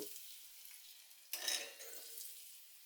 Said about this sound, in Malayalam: നെയ്യിൽ തേങ്ങാക്കൊത്ത് അത് വഴറ്റിയിട്ട് കൊടുക്കാം